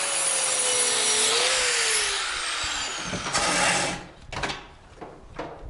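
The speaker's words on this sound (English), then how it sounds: "Let's see if the wire wheel will attack that booger right there." A wire wheel grinds dross off metal with a loud, continuous whirring scrape and a pitch that slides down as it bites, then winds down into a few scattered bursts and rattles near the end.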